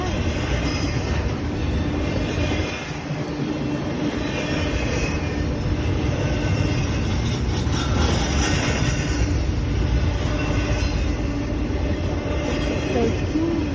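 Trains roll past up close in a continuous loud rumble of railcars, with wheel clatter and faint squeals through the whole stretch while voices carry faintly over the noise.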